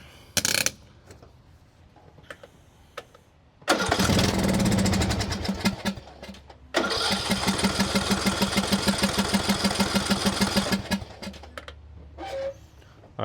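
A used lawn mower engine is cranked and catches, roaring loudly for a few seconds, cutting out, then firing again into a steady, rapidly pulsing run before dying away, with small clicks and handling noises around it.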